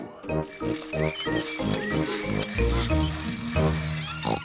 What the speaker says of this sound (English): Who's got the loudest bell?